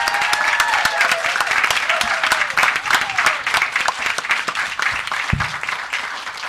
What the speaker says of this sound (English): big round of applause for all of these students.